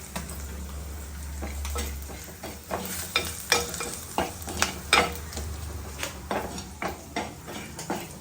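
Fish sizzles softly in a pan while a utensil scrapes and taps repeatedly against it, the clicks coming in an irregular rhythm close by.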